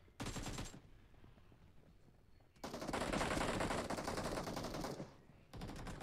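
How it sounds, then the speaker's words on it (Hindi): Bursts of automatic gunfire in the mobile battle game PUBG Mobile during a team deathmatch, a short burst, a long sustained rattle of rapid shots, then another burst starting at the end, loud and close with no talk. "ये क्या गोलियां स्टार्ट हो गई"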